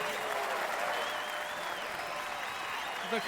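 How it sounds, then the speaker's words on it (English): A crowd claps steadily, a dense, even wash of applause that holds at moderate volume for a few seconds. "The crowd's exploding."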